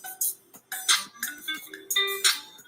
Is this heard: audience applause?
no